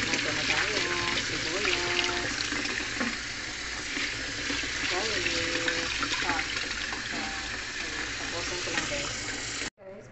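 Running water pours steadily from a tap over spinach being washed, a constant splashing rush with voices talking over it before it cuts off abruptly.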